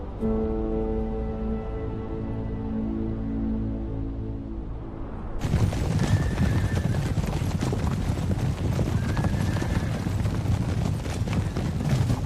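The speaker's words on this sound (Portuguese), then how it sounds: "Todos esses cavalos galopantes são numerados." Hooves of galloping horses in Gansu, China, a broad rushing clatter that bursts in midway and runs loud and steady to the end, after a stretch of tonal music.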